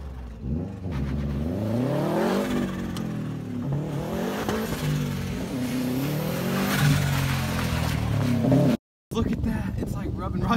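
A 2016 Subaru WRX STi drifting in snow, its engine revving and rising and falling in pitch with continuous roar and tire noise, loud and close, while people talk over it.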